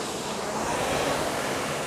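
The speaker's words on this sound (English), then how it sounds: "you should feel and hear more like the sound of your flywheel or water wheel" A rowing machine's water wheel whooshes and churns in a steady, broad rush that swells slightly as the stroke accelerates, close and continuous with no talk.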